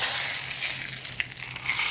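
Spices and salt frying in a pan give a soft, continuous sizzle and crackle with a few small pops, fairly quiet and close.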